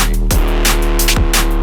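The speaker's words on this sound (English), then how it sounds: "Again, it's this wobble sound here." Drum and bass wobble bass from a 2021 tune, a loud, dense electronic track with a throbbing low bass line, sweeping wobble tones and regular drum hits, played alone without talk.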